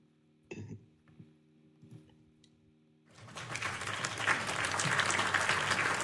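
Quiet, sparse clicks and a soft hum give way halfway through to loud applause that builds and stays dense to the end.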